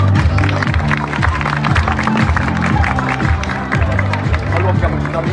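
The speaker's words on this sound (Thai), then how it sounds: "ขอเสียงปรบมือให้กับคณะกรรมการทุกท่านด้วยครับ" An audience applauds the judges at the Miss Grand Phuket 2023 beauty pageant, with dense steady clapping and crowd murmur over loud rhythmic background music throughout.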